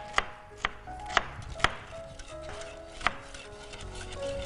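A knife chops onion and vegetables for a Greek salad on a board, with five sharp, separate knocks spaced irregularly and close up, over quiet kitchen background noise.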